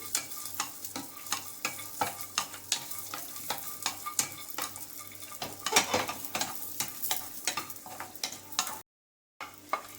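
Avalakki manohara mixture is stirred and roasted in a pan, with steady scraping strokes and soft sizzling close by, the regular stirring rhythm continuing throughout before a brief cut.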